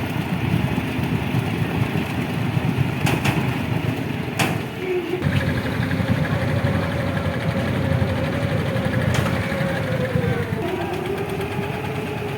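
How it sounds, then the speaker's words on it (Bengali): A trawler boat's engine chugs steadily and loudly throughout on a swollen river near Haripur Rajbari, a continuous mechanical drone with a few sharp clicks along the way. "একটা ট্রলার নিয়ে তারা সবাই যাচ্ছে ঘুরতে।"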